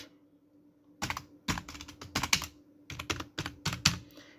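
Fingers type on a computer keyboard in quick, irregular bursts of close, crisp key clicks after a second of near silence.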